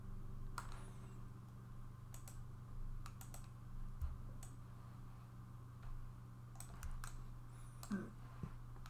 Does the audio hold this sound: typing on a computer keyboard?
yes